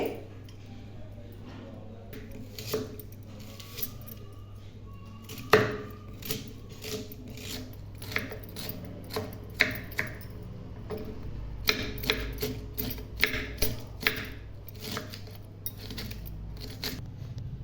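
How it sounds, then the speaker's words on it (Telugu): Medium-sized onions being thinly sliced with a knife on a chopping board, a long run of light, irregular cutting taps that quicken toward the end, set against a steady low kitchen hum. "ఇప్పుడు మీడియం సైజు 2 ఉల్లిపాయలు తీసుకొని వీటిని సన్నగా తరుక్కోవాలి"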